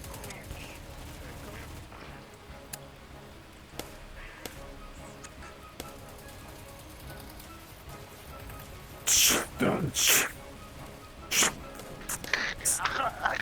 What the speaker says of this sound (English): All these soldiers seem to be distracted with firing at the others.